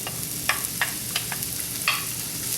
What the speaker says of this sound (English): I'm going to start to saute